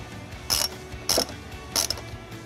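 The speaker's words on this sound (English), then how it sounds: "We're going to use a 10mm socket with a 12-inch extension to remove it." A 10mm socket wrench on a 12-inch extension ratchets a bolt off the beauty panel of a 2018-2024 Honda Odyssey, three crisp, evenly spaced ratchet clicks, close-up over a low background hum.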